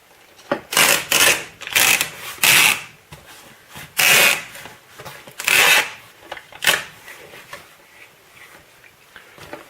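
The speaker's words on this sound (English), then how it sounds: "then you want to tape it closed." A shipping box being taped shut with packing tape, a series of loud, close ripping pulls of tape at an uneven rhythm, some long and some short, with no talking.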